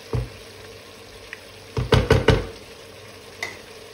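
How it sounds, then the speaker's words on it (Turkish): Meat stirred with tomato and pepper paste in a pan, a few soft scraping strokes over a low sizzle, clustered in a short burst near the middle. "Şöyle salçamı çok sıkı tutuncaya kadar karıştırma işlemine devam ediyorum"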